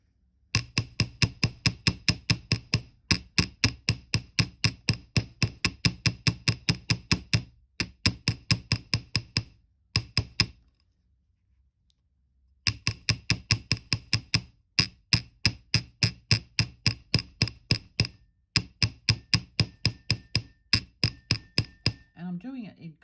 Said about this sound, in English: I'm coming in with my chasing hammer, and this is the one that makes it jump the most.